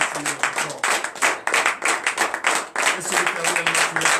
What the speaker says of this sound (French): je vous demande à présent d'applaudir notre Seigneur Jésus.